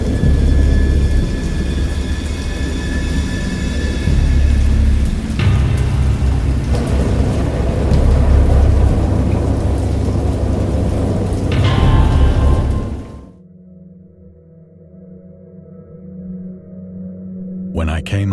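Heavy rain pours with rumbling thunder in a stormy scene from the visual novel Dagon, loud and steady for most of the stretch before cutting abruptly to a quieter, tonal background.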